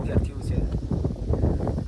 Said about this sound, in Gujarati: પવનનો અવાજ આવતો હશે કદાચ,